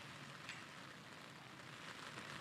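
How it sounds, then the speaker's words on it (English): Rain falls steadily in Cincinnati, a soft, continuous patter on surfaces that stays fairly quiet and even throughout, with no talking. "this rain is really kicking up"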